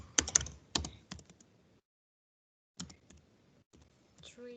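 A computer keyboard is typed on in short bursts of clicks, close and fairly crisp, separated by a silent gap of about a second, with soft speech heard near the end.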